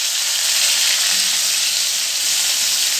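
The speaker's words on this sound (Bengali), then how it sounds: "এখানে জিরে ফোড়ন দেওয়ার পরে মা কড়াইতে এখন কেটে রাখা উচ্ছেগুলো" Sliced bitter gourd frying in hot oil with cumin seeds in a wok, a loud, steady bright sizzle that holds evenly throughout with no voices.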